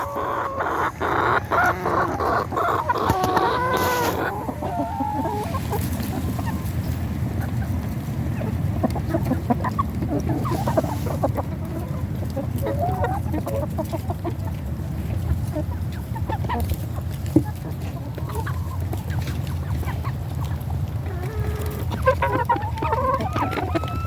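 A flock of chickens clucks and murmurs continuously nearby, with occasional louder squawks over a low background rumble.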